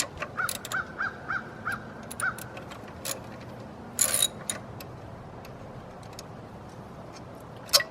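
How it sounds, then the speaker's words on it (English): A 13 mm socket on a ratchet clicks in a quick run of ticks while loosening the alternator nut on a 2002-07 Jeep Liberty, followed by sparse clinks and taps of tools close by. "it's a 13 millimeter socket to get this bolt off"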